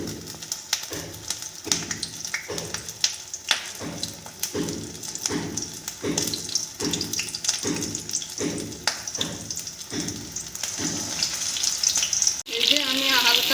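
Capsicum frying on a low flame for a capsicum and tomato dish, a soft continuous sizzle with a regular series of stirring or turning knocks in the pan, steady and close.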